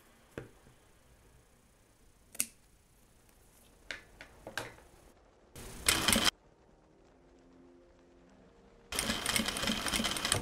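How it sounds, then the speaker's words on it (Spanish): A sewing machine stitching piping onto fabric, with scattered clicks and taps of handling and then two bursts of fast, loud mechanical stitching separated by a quiet pause, close up and without speech. "le damos un piquete al vivo, giramos y seguimos cosiendo"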